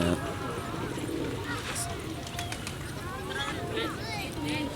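Pigeons coo softly while feeding, amid a steady murmur of birds and shuffling, with a voice faintly in the background.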